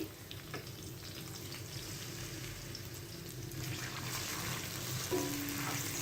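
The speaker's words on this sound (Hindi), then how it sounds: "प्याज फ्राई करने के बाद अब हम यहाँ पर थोड़ा सा पानी ऐड करेंगे।" Water goes into a pan of finely chopped onions frying for a chicken kofta curry, bringing up a soft steady sizzle and bubbling that grows a little louder toward the end, heard close and faint.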